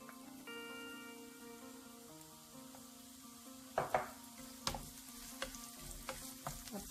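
Onions fry in hot oil in a pan for shakshuka, a quiet, even sizzle joined later by several sharp clinks and scrapes of a spoon stirring against the pan.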